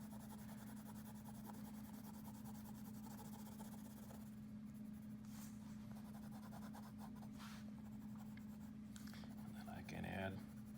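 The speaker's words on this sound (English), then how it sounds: "I push pretty hard on the pencil when I do my third and final layer here." Graphite pencil pressed hard against paper for a dark, solid shading layer, giving a steady scratchy rasp throughout beneath a low constant hum, while a person talks quietly over it.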